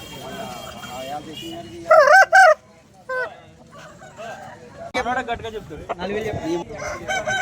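Native country chickens and roosters at the Sunday poultry market in Vijayawada, with a loud rooster crow standing out briefly amid clucking, honk-like calls and market voices in the background.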